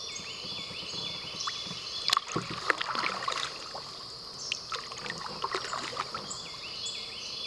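A kayak paddles along a flooded creek off the Ohio River, with intermittent dips and splashes of the paddle and water trickling against the hull, a sharper knock near the middle, amid birdsong, moderately close.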